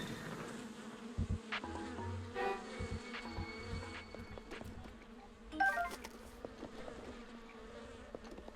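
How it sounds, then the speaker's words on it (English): Bees buzzing in the video game Zelda Breath of the Wild, fairly quiet swarming hum under scattered game clicks and bursts, with no talk. "Yeah, I heard the bees."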